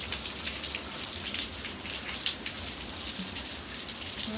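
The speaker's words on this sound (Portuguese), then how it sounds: "Muita chuva nessa hora," Heavy rain pouring down outdoors on a rainy day, a dense, steady hiss of drops with brief spatters on nearby surfaces, constant and fairly loud throughout.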